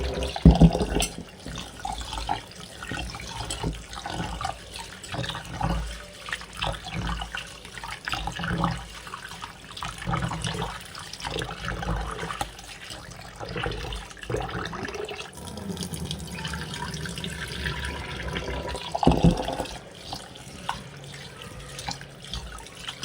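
Rice for idli batter is washed in water in a bowl, with continuous sloshing, swirling and pouring of water close by, steady and moderately loud throughout with brief louder splashes, and no talking.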